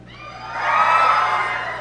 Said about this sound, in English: If you don't have it, just scream.